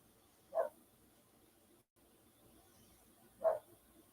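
A dog gives two separate barks about three seconds apart, fairly clear against a quiet, still background.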